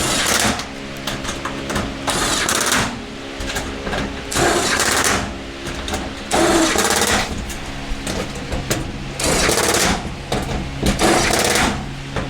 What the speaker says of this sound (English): now to do up all the bloody bolts